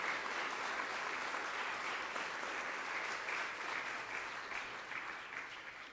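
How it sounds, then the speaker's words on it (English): Audience applause at the 2018 Maryland governor's debate, a dense, steady wash of many hands clapping from a crowd, sustained throughout and easing slightly toward the end. "Please give a round of applause for Krishanti Vignarajah."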